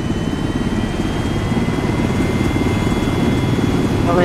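A helicopter engine in the video game Arma 3 drones loud and steady, a constant low rumble with a thin whine over it that runs unbroken throughout.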